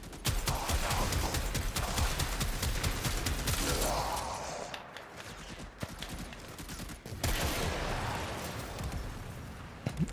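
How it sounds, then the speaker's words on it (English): Trumna heavy gun firing in Warframe, a dense run of rapid sharp shots with a brief lull midway, then another burst alongside game effects. "Practically speaking, you do want to shoot at the fodder enemies as well."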